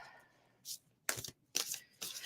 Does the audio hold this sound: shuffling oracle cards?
yes